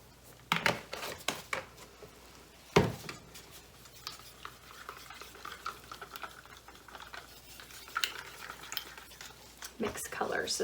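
Mixing fluid acrylic paint with a little water in a cup, with a stick scraping and clinking against the sides in an irregular, close stirring rhythm, with a few sharper knocks along the way.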